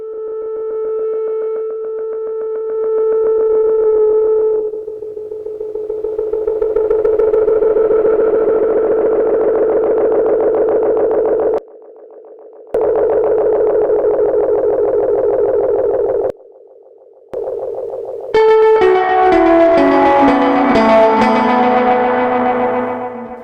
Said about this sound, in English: We could drive it into that distorted Fedral sound that these old Federals can do